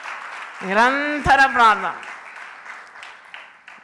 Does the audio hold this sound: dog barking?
no